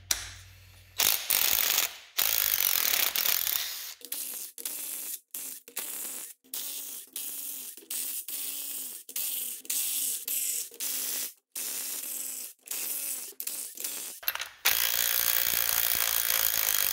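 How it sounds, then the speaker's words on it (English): A ratchet with a 10 mm socket removes the case bolts from an NP263 XHD transfer case on a 2006 GM, giving a close series of quick clicking bursts separated by short pauses. "So take a 10 millimeter socket and pull all the case bolts out."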